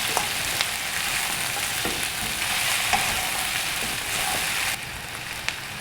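Sambal jambal roti (salted fish) with half-cooked pete and spring onion sizzles steadily in a pan while being stirred, a dense continuous frying hiss with small scraping clicks throughout, close and fairly loud, with no talking.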